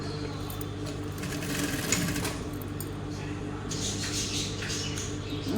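A sewing machine stitches a seam on a garment, running steadily and close at moderate loudness throughout, with some brighter clatter late on.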